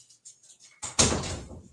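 A house door is opened to let a dog out, with faint shuffling beforehand, then a soft latch clunk and a firmer thud as it swings shut, close by with no talking.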